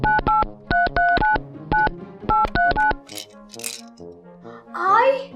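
A telephone number is punched in, a quick run of sharp beeping keypad tones in short clusters, followed by softer handling noises and someone speaking near the end.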